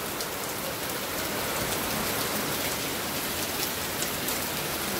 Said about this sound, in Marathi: आज पावसाची धूम आहे धूम।